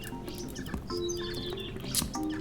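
Video game Sapiens: small birds give quick, bright chirps and tweets over a layer of ambient game music, with a pattering texture underneath and no talking.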